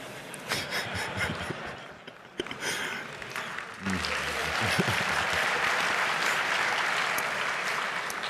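Audience applause at a 32C3 hacker congress talk builds into a loud, sustained wash of clapping hands filling a large hall, preceded by scattered claps and a brief murmur.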